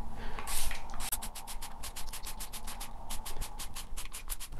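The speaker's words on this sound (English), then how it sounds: "again with the mould eliminator, give it a good spray, let it soak in for a few minutes" Mould eliminator containing bleach is sprayed onto an indoor wall with a trigger sprayer, giving about fifteen quick, evenly spaced hissing squirts close by, with no talk over them.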